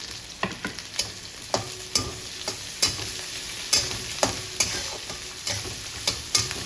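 Onion stirred and frying in a hot pan on high heat, steady sizzle punctuated by repeated sharp scraping clicks of a spatula in a regular rhythm, close and alone.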